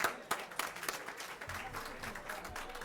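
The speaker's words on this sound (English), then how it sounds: "Let's have a little cheer." An audience at a Citizen of the Year 2003 event claps and cheers for about three seconds, with dense steady applause and a few sharper claps standing out near the start.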